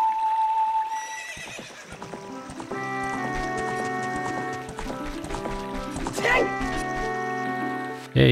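Horse neighing in the GameCube game Zelda: Ocarina of Time Master Quest, a loud whinny rising over game music with a steady musical score continuing, brief sharp effects near the end.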